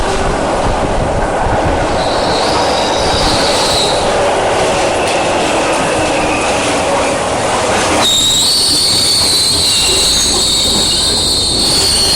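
A Glasgow subway train rumbles and rattles along the track with squealing wheels and a steady roar, then a high metallic whine rises as it runs on.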